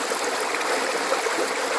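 A mountain stream at Suối Nhiệm in Sủng Trái, Đồng Văn, Hà Giang, flowing in a steady, dense rush and gurgle close by, continuous and unbroken, with no talk.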